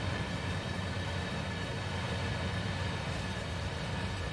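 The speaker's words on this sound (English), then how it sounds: "Got a coal train passing through." Coal train rolling past on the Horseshoe Curve near Juniata in Train Sim World 2, a steady continuous low rumble with broadband rail noise and no voices.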